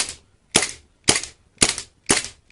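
An M9 airsoft replica pistol dry-fires with no BBs loaded, giving five sharp, evenly spaced loud clacks about half a second apart, close up, with no talking.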